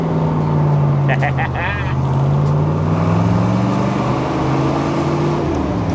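1967 Chevrolet Corvette with a big block engine and 3.70 posi rear gears accelerating, a loud deep engine drone rising in pitch through the pull, with people talking over it.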